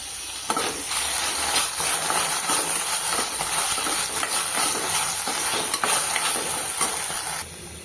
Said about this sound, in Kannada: ಈರುಳ್ಳಿ ಫ್ರೈ ಆಗಿದೆ